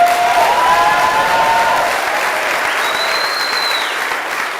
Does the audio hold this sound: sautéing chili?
no